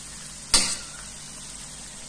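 Carrots sizzle steadily in hot oil, with one sharp crackling burst near the start before settling back into a soft, even hiss.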